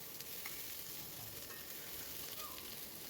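Capsicum and onion fry softly in oil with a little salt, a low, even sizzle that runs steadily with a few faint stirring ticks.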